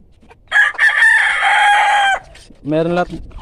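Farm chickens raised for breeding: a rooster lets out one long, loud crow close by, followed by a shorter second call, with faint clucking in the quiet gaps.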